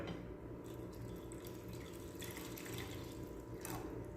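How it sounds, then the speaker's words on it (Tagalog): Water runs steadily and splashes into a cooking pan of chicken teriyaki sauce, a continuous rushing pour at close range with no voices. "Ngayon mga ka-recipe, lagyan natin ng water."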